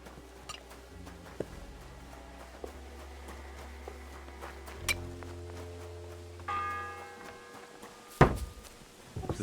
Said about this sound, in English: The 7th bell.